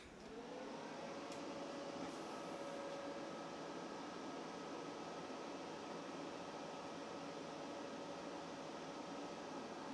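A YesWelder FIRSTESS MP200 multi-process welding machine powered on, its cooling fan spinning up into a steady, continuous whir with a faint tonal hum, heard alone for the whole stretch.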